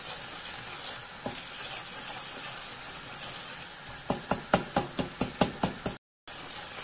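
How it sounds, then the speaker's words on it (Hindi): Cumin, turmeric and dry coriander frying for kadhi, a quiet steady sizzle and hiss with a run of sharp spoon taps against the pan near the end, close up and without talk. "आधा चम्मच जीरा और 1 चम्मच भर के हल्दी का डालेंगे कि इससे रंग आएगा कढ़ी में और मसाले को भूनते अच्छा सा।"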